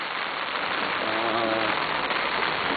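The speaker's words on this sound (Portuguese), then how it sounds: "Chovendo direto aqui" Heavy rain pours down steadily in Friburgo, Brazil, a dense, unbroken hiss of falling water that fills the whole moment, with a faint voice murmuring underneath.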